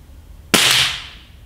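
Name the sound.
Snowpeak SR1200S air rifle firing a pellet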